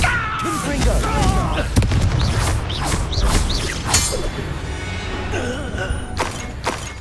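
Explosive booms and crashes from a fire-blast spell in the video game Hogwarts Legacy burst close and loud amid rumbling battle effects, with in-game voices and chirping magical sounds mixed in.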